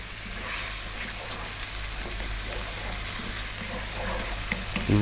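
Tomatoes with turmeric cook down in a pan with a steady, close sizzle and hiss that keeps going alone, with faint bubbling over a low hum.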